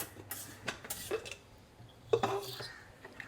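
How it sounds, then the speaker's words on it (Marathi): A small metal pot is washed in a home kitchen, with sharp clanks and clattering knocks of dishes and utensils in a few close, irregular bursts and no talk. "छोटं भांडं धुवून घे."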